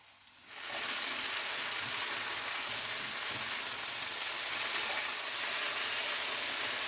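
Papaya and broccoli hit a hot pan for a wedding-style shahi mixed vegetable dish, setting off a steady, loud sizzle that holds evenly for several seconds.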